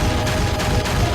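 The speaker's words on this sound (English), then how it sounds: "The sound of the gunfire thunders through the chamber." Gunfire in the visual novel Deus Machina Demonbane, a dense, loud burst of shots hammering in a steady rapid rhythm for about a second with no voices over it.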